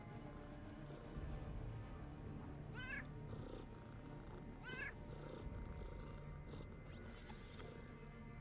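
Cats in a video game give two short, faint meows a couple of seconds apart over a soft, steady rain-like hiss.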